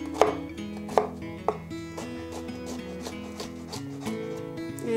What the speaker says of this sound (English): just run your knife back through a few times